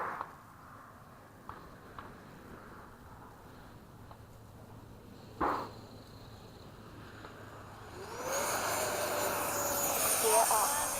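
An F/A-18 jet making a touch and go in foggy conditions: quiet cabin rumble with a few thumps, then engine roar rising loudly and holding near the end.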